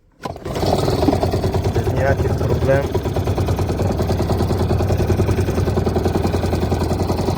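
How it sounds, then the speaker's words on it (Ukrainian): A small Parsun 2.6 outboard motor on a fishing boat starts up abruptly and settles into a steady, throbbing run while someone speaks briefly over it. "заводиться мотор дуже класно"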